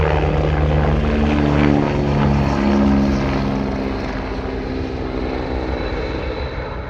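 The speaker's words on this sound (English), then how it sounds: "the peace was shattered once more by another helicopter flying out" A helicopter's engine and rotors drone loudly nearby on St Kilda in the Outer Hebrides, then slowly fade as the aircraft flies away.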